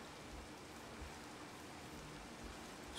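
Steady rain falls in the Minecraft video game, a soft, even hiss that runs without break at low level, with no voices.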